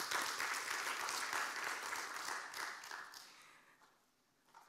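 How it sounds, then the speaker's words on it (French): Conference audience gives a dense, full round of applause that holds steady for a few seconds and then fades away. "Sous vos applaudissements, s'il vous plaît."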